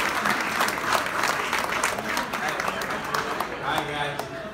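A crowd at a charity poker tournament gives a round of applause for baseball player Yasiel Puig, dense continuous clapping, close and steady, with voices mixed in underneath.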